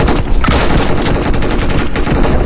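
Gunfire in a PUBG custom match, a dense, loud burst of continuous rapid shots filling the whole moment with no talk over it.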